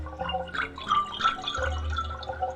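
A synthesizer tone processed through a water material in Spectrasonics Omnisphere 2 yields bubbly, dripping, liquid textures with shifting pitched blips over a low sustained drone, played alone.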